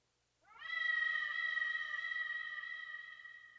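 A single drawn-out cat meow from the video game Persona 2: Eternal Punishment rises and then holds steady, clear and close against silence.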